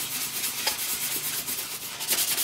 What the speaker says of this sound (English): I'm going to come back with my scrub pad and start scrubbing it off